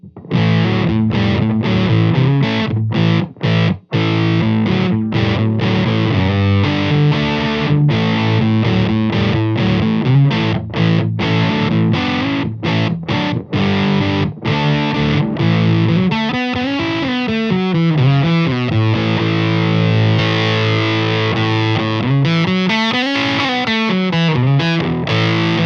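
Electric guitar through a Sputnik 3 fuzz pedal on a warmer setting, a long, loud and sustained fuzzy riff with quick picked notes and later sweeping, wavering bends, played alone without voices.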